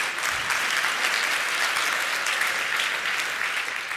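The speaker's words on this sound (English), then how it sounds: "Please give a warm round of applause to Jake" An audience bursts into loud, sustained applause, dense clapping from a large crowd that holds steady for the whole four seconds with no voices standing out.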